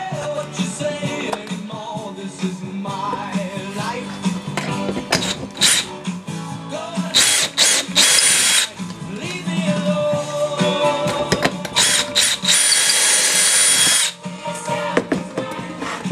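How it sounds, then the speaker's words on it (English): Power drill boring pocket holes into wood for a bench frame, a series of loud bursts of whirring and grinding with brief pauses between them, close by and without talk. "Doing the pocket holes right now for the frame for the bench"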